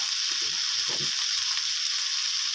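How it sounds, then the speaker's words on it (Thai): Chicken fried rice stir-fried in a pan with light soy sauce, seasoning sauce and a little dark soy sauce gives off a steady, close hiss of sizzling with faint scraping of stirring underneath. "นี่ครับผัดคลุกเขาให้สีเขาสม่ำเสมอกันนะครับ"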